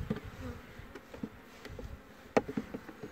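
Honey bees buzz around a beehive during beekeeping work, a faint, close humming with scattered louder passes and small knocks, no voices.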